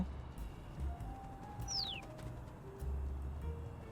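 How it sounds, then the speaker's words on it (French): A bird coos and chirps in the video game Little Kitty Big City, with a few soft calls and one quick rising chirp over a low ambient game background. "Il y a un oiseau"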